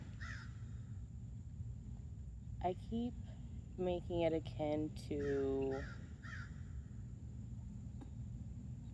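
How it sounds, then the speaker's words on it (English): Crows caw repeatedly in a loud, harsh series close by, while a person speaks briefly over the calls. "These birds are so loud."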